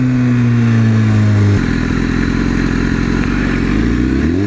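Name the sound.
motorcycle, CBR or Ninja, passing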